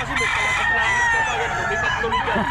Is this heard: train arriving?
no